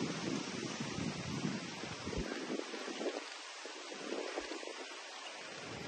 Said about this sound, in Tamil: நல்ல கடற்கரை காற்று, மரங்கள்.